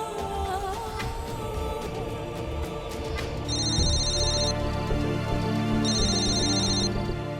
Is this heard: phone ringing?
yes